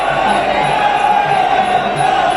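A crowd at a Muay Thai fight roars and cheers in a steady, loud wash of noise with no break.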